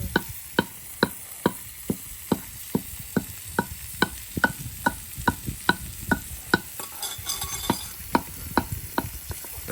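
Onions sautéing in a pan for a homestyle country chicken curry, a spatula scraping and stirring in a steady regular rhythm over a constant sizzle, close and alone.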